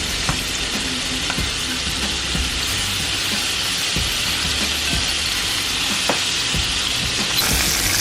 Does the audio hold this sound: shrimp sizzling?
yes